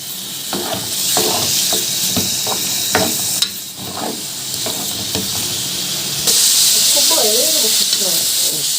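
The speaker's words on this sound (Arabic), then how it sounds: "ده تقليبه على طول كده لحد ما ايه تتشوح كده على النار اهي" Alexandrian-style liver frying in a hot pan, a loud steady sizzle with repeated scraping stirs, and someone talking over it.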